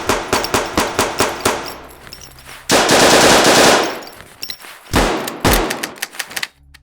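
Assault rifle gunfire in the No Such Place survival tactical game: loud rapid bursts of shots, a sustained dense volley, then scattered single shots and short bursts, with no voices.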